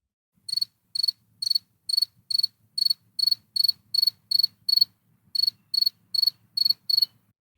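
Cricket chirps ring out in an even pulsing rhythm, about fifteen short bright trills at steady intervals with one slightly longer gap, clear and alone against near silence.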